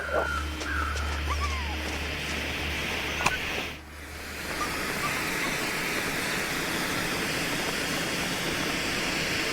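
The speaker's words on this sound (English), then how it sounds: "that horrible hissing noise is the road flare that I lit to try to run the wolf off" A lit road flare in The Long Dark video game gives off a steady, broad hiss that fills the whole stretch evenly, loud and continuous, with a brief dip partway through.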